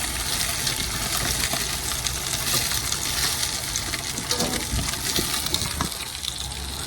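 Kyogle Quality Meats sausages frying slowly in a pan, a continuous soft sizzle and crackle with faint spitting throughout.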